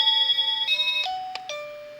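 An HXF wireless driveway alert doorbell plays a melodic electronic chime, several clear sustained tones stepping through a short tune, loud and close with no one talking over it.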